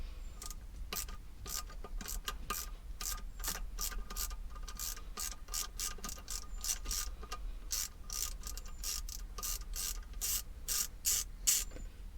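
A ratchet clicks rapidly in repeated bursts as bolts are backed out of a C5 Corvette shifter, close and crisp over a low background hum.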